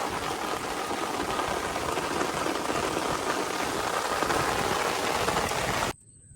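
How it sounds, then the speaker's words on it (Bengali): Heavy rain pours steadily outside near a riverside fishing spot, a dense, even roar of falling water that continues unbroken for several seconds before cutting off abruptly. "বাইরে বৃষ্টি নেমেছে দেখুন প্রচুর বৃষ্টি প্রচুর"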